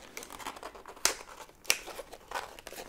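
Microphone box packaging for a FIFINE K690 being opened up close, with steady crinkling and tearing of paper and plastic plus two sharper snaps, quiet and intimate with no talking.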